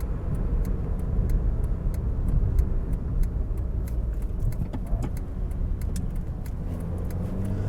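A 1996 or 2008 Ford Ka city car cruises on a dual carriageway. Steady engine drone and road and wind roar fill the cabin, with faint rhythmic ticking running throughout.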